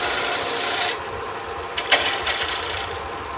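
A lathe tool trues up a turned wooden ornament base with a continuous close scraping hiss, broken by a few brief louder catches toward the end.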